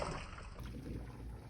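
Boiled potatoes, parboiled in water with salt and baking soda, are poured from a pot into a colander, giving a steady, fairly quiet rush of draining water that runs the whole moment with no talking.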